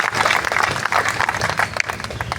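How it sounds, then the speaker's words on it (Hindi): An outdoor crowd at a Delhi agricultural campaign launch event in Bawana claps steadily, a dense, fairly loud applause that stays even for a couple of seconds with faint voices mixed in. "दादा एक बार बजा दो ताली"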